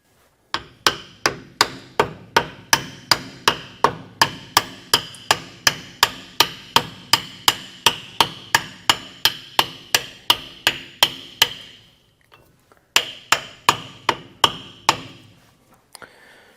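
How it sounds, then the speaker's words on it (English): Steady rhythmic hammer blows drive a part onto a 1971 Highboy Dana 44 axle during wiper seal work, about thirty sharp metallic strikes in a fast even series, a brief pause, then a few more hits, close and loud with no talking. "if you are hammering those things on, don't get carried away with the hammer"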